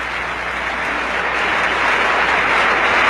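An audience applauds Corazon Aquino, a dense, steady wash of clapping that holds loud and close for a few seconds, with no voices.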